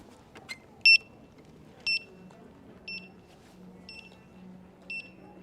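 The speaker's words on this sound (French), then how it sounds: "c'est une éternité le temps que les bips veuillent bien s'arrêter" A Begode Hero electric unicycle beeps repeatedly after its trolley handle is lowered. Sharp, high electronic bleeps sound about once per second, five or six in a row, over a low background hum.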